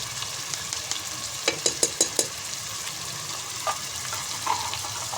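Fresh green chillies and a spoonful of freshly crushed chilli hit hot oil in a dhaba-style dal mash tadka, giving a steady sizzle with a quick run of sharp spattering pops near the start and stirring clinks, no talking.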